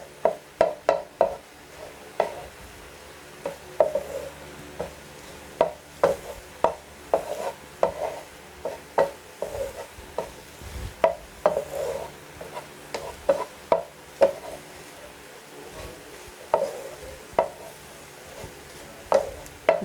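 Egg being cut into pieces in a frying pan with a utensil while cooking restaurant-style egg chicken fried rice: repeated sharp metallic taps and scrapes in an irregular rhythm, over a faint background sizzle.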